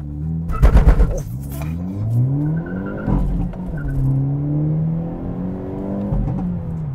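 A 2022 Hyundai Elantra N with a dual-clutch transmission launches hard: a burst of loud engine roar, then the engine revs climb and drop through quick gear shifts as it accelerates away.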